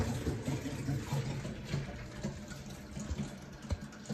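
Water runs steadily from a tap on newly installed household plumbing, a continuous close splashing hiss with a few brief knocks and no talking.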